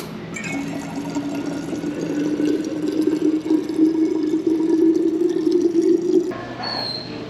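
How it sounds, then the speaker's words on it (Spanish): A bottle-refill water fountain at Newark Liberty airport, running as a steady filling stream whose pitch rises gradually as the bottle fills, then stops abruptly and leaves airport terminal hum behind. "esta fuente de agua para recargar tus botellas en la que incluso hay agua de sabores"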